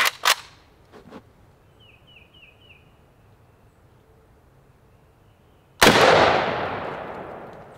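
An AK rifle fires 7.62x39 rounds at a trailer hitch outdoors: a couple of sharp cracks open the clip, then after a quiet pause a loud, close shot bursts out with a long ringing echo tail.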